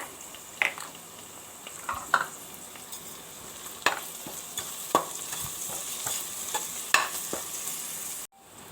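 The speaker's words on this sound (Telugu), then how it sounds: "ఇవి బాగా గోల్డ్ కలర్లో వచ్చే వరకు వేయించుకోవాలండి ఉల్లిపాయను వేస్తున్నప్పుడు సాల్ట్ వే వేసుకుంటే ఉల్లిపాయలు తొందరగా వేగిపోతాయండి" Onions sizzle in a hot pan for an Andhra-style brinjal curry, with a steady frying hiss and repeated scraping stirs of a spatula, close and moderately quiet.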